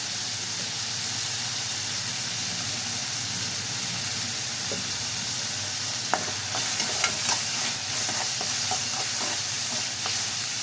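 Onions sautéing in a pan for a drumstick stir-fry give a loud, steady sizzling hiss close up, with light clicks of stirring scattered through the second half.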